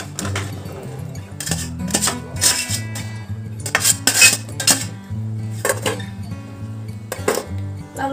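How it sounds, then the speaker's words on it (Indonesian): Potatoes tumbling into a pot of milk for mashed potato, with clinks and clatters of utensils against the pot in irregular bursts, close and fairly loud, while someone talks throughout. "Dan sekarang baru kita masukkan kentangnya."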